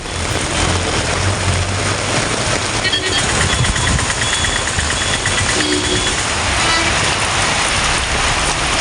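Heavy rain during a thunderstorm around Melur in Madurai district, Tamil Nadu, a dense, loud, steady downpour hiss with low rumbling underneath, continuous and close, with no voices.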